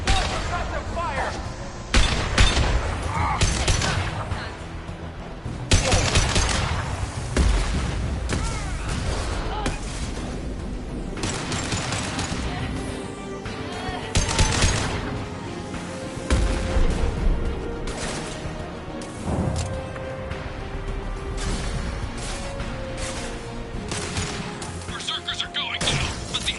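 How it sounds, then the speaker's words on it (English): Suppressive gunfire in a Mass Effect 2 battle, with repeated loud volleys, booms and shattering impacts spread over a long stretch, and voices speaking at times amid the fighting. "Protocol 4, deploy suppressive fire."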